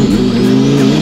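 A twin-turbo Lamborghini Huracan Performante engine of 1438 horsepower drones loudly and steadily up close in a sustained high-revving roar, with no voices.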